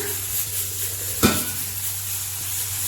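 A lid clanks down onto a pot of softening tomatoes cooking on low flame for a chicken liver and gizzard gravy, one sharp metallic knock midway over a soft, steady simmer.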